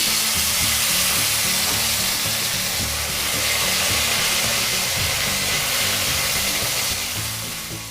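Potato pieces frying in a little oil with whole garam masala in a pan, a loud continuous sizzle and crackle with no talk.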